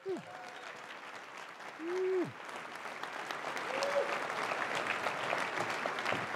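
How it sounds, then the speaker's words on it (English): A keynote crowd begins applauding after a few short spoken syllables, and the clapping swells into a steady, moderately loud roar that fills the rest of the moment. "please give me help me welcome and give a round warm of applause to Jayson Street."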